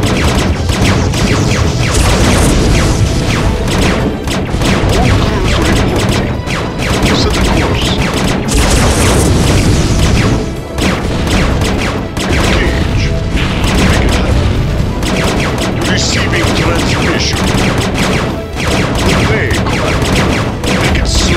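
Gunfire and explosions in StarCraft: Brood War Remastered, a continuous loud barrage of rapid shots and booming blasts layered over one another, dense and sustained for about twenty seconds.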